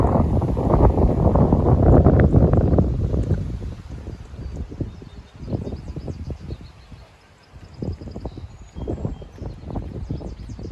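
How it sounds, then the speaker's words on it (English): Strong wind gusts buffeting the microphone on a very windy outdoor day, loud rumbling at first and then easing into fluttering, uneven bursts with no speech. "It's a very windy day."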